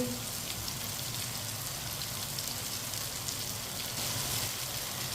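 Finely chopped onion sizzles in a pan after zucchini (tori), a steady, dense crackle of frying that stays even and close throughout, with no talking.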